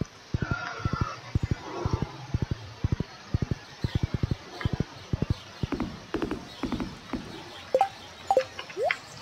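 Rhythmic clip-clop of horse hooves from riding in the farming video game Stardew Valley, steady quick trotting beats close and clear, with a few brief whinny-like sounds and a voice talking over the later part.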